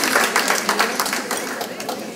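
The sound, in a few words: audience applause at volunteer tribute evening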